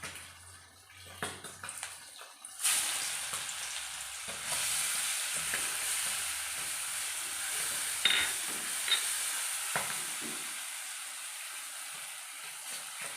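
Crushed small red onions drop into hot oil already holding mustard seeds for a Kerala lunch curry. After a few light clicks a bright, steady sizzle bursts up and keeps going, broken by occasional spoon scrapes and stirring.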